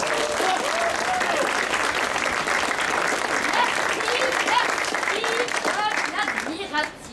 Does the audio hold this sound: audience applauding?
yes